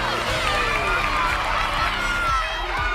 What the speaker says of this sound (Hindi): हमारे आने पर इस गांव ने हमारा जोरों से स्वागत किया